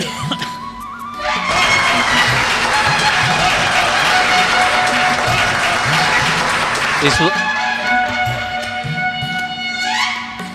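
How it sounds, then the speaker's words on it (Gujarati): An audience applauds as a doctor is honoured at a medical camp, sustained crowd clapping for several seconds over steady music, which continues alone once the clapping fades. "આપણે તાળીઓના ગડગડાટ વડે આ પ્રસંગના સાક્ષી બનીએ"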